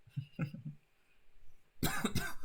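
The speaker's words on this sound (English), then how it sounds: "I still have my cough." A person coughs several times in quick succession, then lets out a louder, harsher cough close by.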